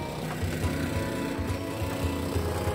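Yamaha YT660 snow blowers churn and throw snow, a muffled mid-distance engine drone with rhythmic surges of the auger and chute blowing.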